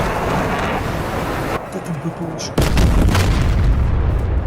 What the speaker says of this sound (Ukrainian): і твою бомбу підірвали